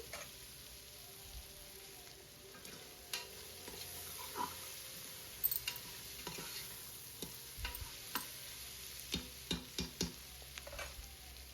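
Onions frying with fragrant spices in a pan, stirred now and then: a soft, steady sizzle underneath scattered clicks and scrapes of the spoon against the pan, spread out and fairly quiet.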